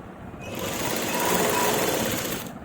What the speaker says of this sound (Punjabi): ਐਦਾਂ ਕਰਕੇ ਇਹਦੇ ਉੱਪਰ ਸਲਾਈ ਲਾ ਦਾਂਗੇ